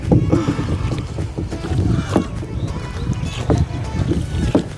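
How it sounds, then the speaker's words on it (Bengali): Kayak paddled across a lake at Savar Kayaking Point, with steady water sloshing and dipping strokes close by, mixed with wind buffeting the microphone throughout. "বোট রাইডিং করছি"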